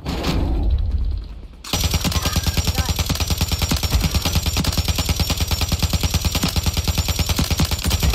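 Rapid automatic gunfire from Call of Duty Modern Warfare 3 Resurgence rattles in a loud, sustained burst of evenly spaced shots after a brief quieter opening, with little talk over it.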